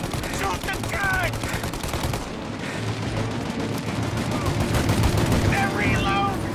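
Gunfire in Mafia Definitive Edition, a sustained volley of rapid shots that rolls on for several seconds with booming bursts, loud and near, with voices speaking over parts of it.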